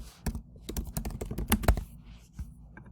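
Fingers type a title on a computer keyboard in a quick burst of close, clicky keystrokes with a brief pause near the end, with no voices.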